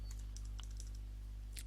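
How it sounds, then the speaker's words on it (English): Soft, scattered keystrokes on a computer keyboard while setting up Kali Linux in VirtualBox, a few quick clicks over a steady low hum. "Let's go ahead and try typing in P7."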